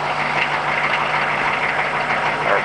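A 2003 Hummer H1 engine idles steadily, a loud, even mechanical drone with a faint knocking texture and no pauses.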